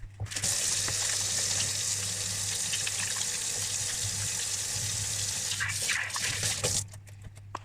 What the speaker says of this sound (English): before you do anything in the kitchen, wash your hands.